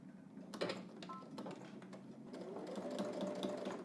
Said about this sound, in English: now I'm top stitching to catch the fold underneath